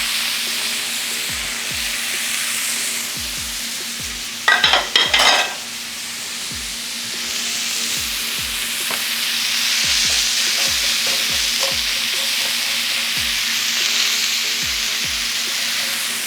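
Steak sizzles steadily in a very hot cast iron skillet, a constant bright hiss throughout with a brief louder clatter of stirring or utensil scraping near the middle and soft low knocks recurring underneath.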